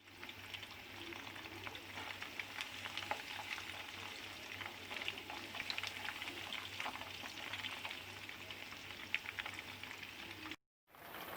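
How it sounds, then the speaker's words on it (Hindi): Battered chicken finger fries sizzle steadily in hot oil, a dense continuous crackle heard alone with a brief dropout near the end. "ऑयल गर्म हो चुका है, इसमें मैं चिकन फिंगर फ्राइज़ डाल दूँगी।"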